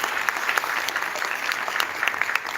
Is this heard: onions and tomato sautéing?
no